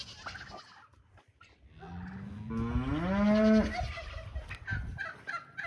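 A cow on a homestead where goats are being separated gives a long, rising moo at close range, with softer rustles and scattered farm-animal noises before and after the call.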